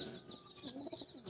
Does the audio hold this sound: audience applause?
no